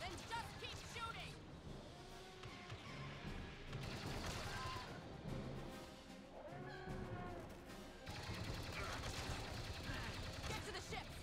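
Blaster gunfire in Star Wars Battlefront II, repeated energy-weapon shots and bursts mixed with explosions and battle clatter, with voices talking over the combat throughout.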